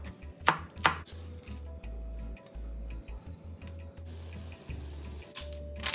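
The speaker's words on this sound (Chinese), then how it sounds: "菜心1颗切小段" Choy sum is chopped into short pieces on a cutting board, with two loud knife strikes near the start and then a run of softer, rapid taps and clinks, close and without talk.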